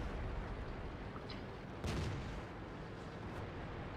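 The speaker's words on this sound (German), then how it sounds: "Da schieße ich hier in die Kommandantenkuppel" IS-3 heavy tank firing its main cannon in World of Tanks, a single sharp distant boom cutting through a steady low engine and battlefield rumble, fairly faint overall.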